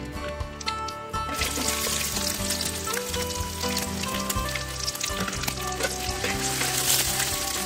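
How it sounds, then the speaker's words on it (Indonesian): Shallots and garlic sautéing in hot oil for stir-fried rice vermicelli with green chili, a loud, steady close sizzle and frying crackle throughout, with faint stirring in the pan and no voices. "kita siap masukkan bawang merah dan bawang putihnya"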